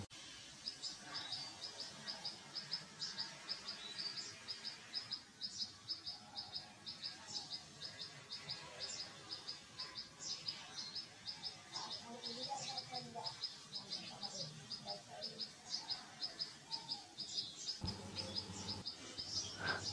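Birds sing and chirp in a forest, a steady repeating high chirp over a bed of insect or cricket buzz, with other calls scattered throughout, and a voice speaks over the chorus.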